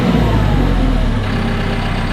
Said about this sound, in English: So you put her in ignition on, parking brake is already on, start, and you can control the throttle.